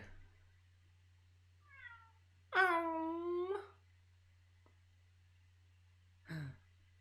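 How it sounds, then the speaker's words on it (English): A cat meows in The Great Ace Attorney Chronicles video game: a short chirp, then one long clear meow, and a brief faint call a few seconds later over a low steady hum. "Oh my, what an adorable little cat!"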